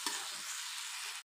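Bakful (hummingbird tree) flowers fry in a pan while being stirred, giving a loud, steady close-up sizzle that cuts off abruptly, with no talking.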